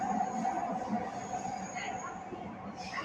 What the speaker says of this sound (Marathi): ही बघा मेट्रो.